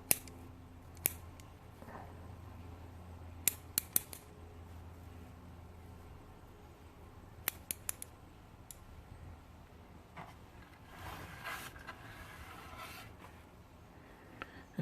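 Hand shears trim a lemon cypress branch, giving a few sharp snips and clusters of quick cuts spread over a quiet outdoor background, with no talking.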